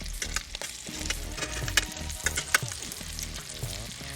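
Meatballs fry in a frying pan, sizzling steadily while being stirred and gently scraped, with occasional louder pops and clinks close by.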